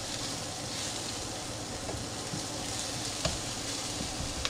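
Ground beef cooks in a pan for sloppy joes, giving a steady, even sizzle and hiss throughout with a few faint clicks and no talking.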